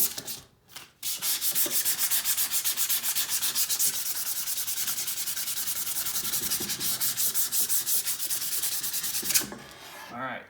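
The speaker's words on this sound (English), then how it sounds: "Give it a good sanding on each side." Sandpaper scrubs a steel blade in fast, even back-and-forth strokes, a steady rasping rhythm that continues for several seconds before stopping.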